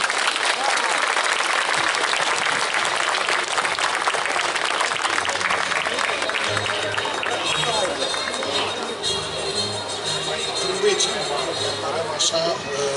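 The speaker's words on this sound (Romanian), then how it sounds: "Cu aplauze îmi răspundeți." Applause from a gala audience in Fălticeni fills the room, dense and steady throughout, with crowd noise and a voice emerging faintly beneath as it tapers slightly toward the end.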